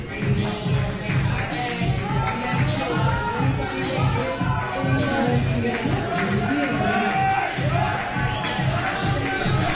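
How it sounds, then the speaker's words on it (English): An indoor crowd cheers and shouts steadily for a 37-year-old powerlifter going for his second attempt at 190 kg at the 2015 IPC European Open Championships in Eger, a loud, dense roar that holds for the whole stretch. "Plenty of cheering for him"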